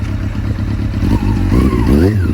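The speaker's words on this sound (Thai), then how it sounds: "มาฟังเบิ้ลเบิ้ลกันหน่อยครับ" A 1997 Honda CB400 motorcycle engine revs up in quick throttle blips, its rough low rumble rising and falling close by.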